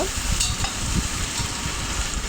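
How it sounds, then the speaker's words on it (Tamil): Onions with a pinch of salt sautéing in a pan, a steady close sizzle with soft stirring scrapes throughout, no voices. "இதை நல்லா வதங்கணும்"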